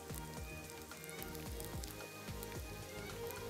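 Samosa dough dropped into hot oil sizzles and bubbles steadily, a dense even crackle with soft repeated low pulses underneath, moderately close.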